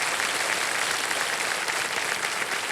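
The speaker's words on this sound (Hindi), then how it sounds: "तालियों के साथ इनका स्वागत किया जाए।" Steady, dense applause from a large game show studio audience on Kaun Banega Crorepati, continuous throughout with no voices rising above it.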